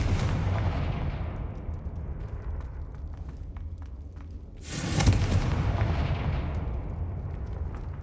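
In the Hogwarts Legacy video game, a Confringo fire spell blast bursts with a sudden loud boom, followed by a roaring, crackling tail. A fainter rumbling blast fades out beforehand.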